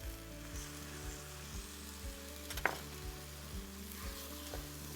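A potato and egg frittata simmers in a 10-inch skillet, giving a soft, steady sizzle with one brief scrape of stirring, fairly faint and without talk.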